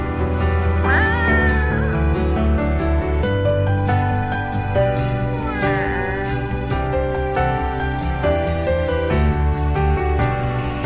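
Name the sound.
cat meowing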